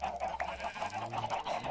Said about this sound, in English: Come to me, my chickens.